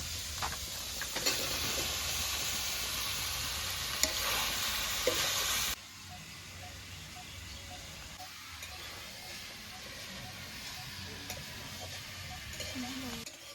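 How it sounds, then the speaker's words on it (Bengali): Young jackfruit and potatoes stir-fried with meat in a pan give a loud, steady sizzle with scraping stirs, then drop to a quieter simmering fry with occasional utensil knocks. "এবার এর মধ্যে এঁচোড় আলুটা দিয়ে কষিয়ে নেব।"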